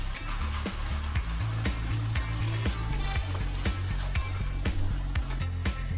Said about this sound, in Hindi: बस जी इसको भून लेना है